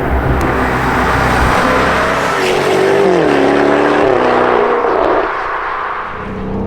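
A Jaguar F-Type V8 being driven roars loudly and continuously, its engine note rising and falling with shifts in revs, heard close and dominant with no talk over it.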